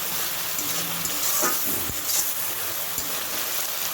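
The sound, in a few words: spice masala with asafoetida frying and being stirred in oil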